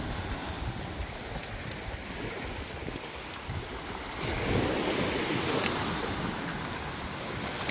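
Rough sea waves surge in a steady wash under a storm, the surf loud and continuous, growing heavier halfway through, with wind buffeting the microphone and no voices.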